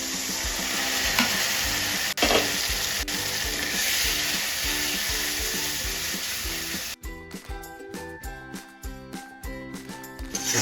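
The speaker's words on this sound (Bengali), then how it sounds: "এটাকে এবার ততক্ষণ অবধি কষিয়ে নেবো যতক্ষণ না মশলা থেকে তেলটা আলাদা হয়ে যাচ্ছে" Chicken kosha masala with chili powder, Kashmiri chili powder and a splash of water sizzles steadily in a pan, then gives way to rhythmic scraping and stirring clatter, close and loud with no speech.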